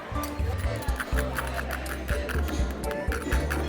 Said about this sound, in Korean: 소리 들리시죠? 바삭바삭해요.